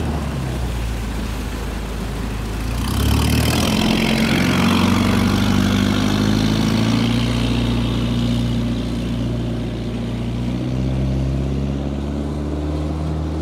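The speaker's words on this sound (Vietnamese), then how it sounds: "được lắp đặt động cơ Mitsubishi 4D56" A Mitsubishi 4D56 diesel with intake-air cooling runs in a 5.4 m speedboat on a test run, a close, loud droning engine that revs up around a few seconds in, then holds a steady throb with a slowly rising pitch, with no talk.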